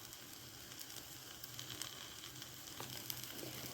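An okra and egg omelette sizzles in a pan, a faint, steady frying hiss with small crackles and no talking.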